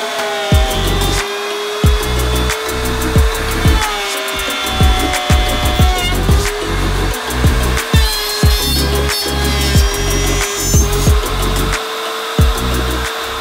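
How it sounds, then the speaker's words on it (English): A router table cuts a channel in a wooden board for a putter head, giving a loud, sustained whine with repeated rhythmic thumps as the wood is fed through in passes. "I'm going to do that on my router table by making a couple passes."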